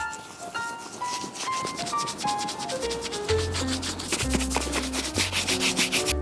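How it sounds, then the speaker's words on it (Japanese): Steady cloth rubbing of tinted cream over handmade leather shoes, a soft continuous brushing texture that runs throughout with music playing over it. "この色付きのクリームで磨いていきます"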